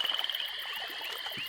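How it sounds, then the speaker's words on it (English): A toad croaks in the swampy region of the fantasy role-playing video game Evil Islands, a short burst of rapid, pulsing croaks at the start that settles into a steady, buzzy trill for the remainder, fairly clear with no talk over it. "Another toad?"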